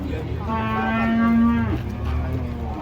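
An agitated cow lets out one long, loud, sustained moo that swells to a peak and then drops away, close by, with no talk over it.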